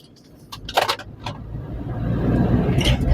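A BMW Mini Cooper drives along a road, its engine note rising steadily as it gains speed, with a few brief clicks and rattles from the cabin early on, close and moderately loud.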